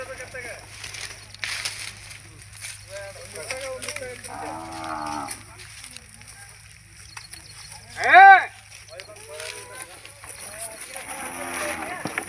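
Cattle at the Devaragudda livestock fair low with a loud, clear moo near the middle, amid scattered animal calls and murmuring voices of farmers trading in the background.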